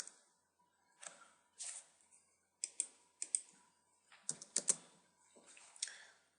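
Keys are pressed on a computer keyboard to enter coordinates, a close, quiet series of irregular clicks and short bursts of typing with pauses between them.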